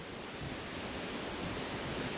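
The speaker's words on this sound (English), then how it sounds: "Grey skies, windy." Broad, steady rushing noise of wind, faint and constant with no voices.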